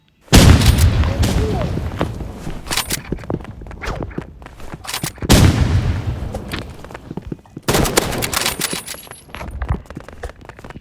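Loud booming blasts and sharp bursts of gunfire erupt in a video game firefight, three heavy impacts spaced a few seconds apart, each followed by crackling debris and scattered shots.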